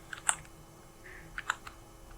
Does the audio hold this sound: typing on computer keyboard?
yes